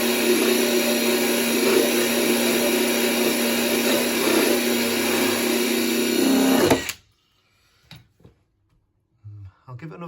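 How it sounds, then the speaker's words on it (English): A drill spins a drill-bit cleaning attachment with a loud, steady high-pitched whine for about seven seconds, then stops abruptly, leaving near silence broken by faint handling clicks. "basically it goes in your drill"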